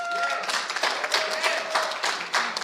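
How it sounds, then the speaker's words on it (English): A round of applause at a reparations task force press announcement in Detroit, steady clapping from a small crowd, moderately loud and continuous with a voice in the room over it. "We ought to give her a round of applause because she made this thing happen"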